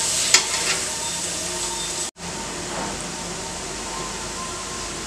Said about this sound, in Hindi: गाजर को अच्छे से पकने तक इसे भूनेंगे।